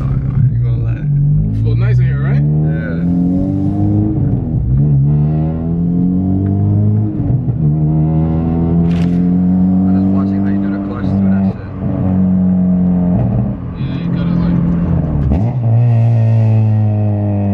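A Honda Civic Si accelerates hard through the gears, its engine note climbing steadily and dropping briefly at each shift, loud and close from inside the car, with people talking over it.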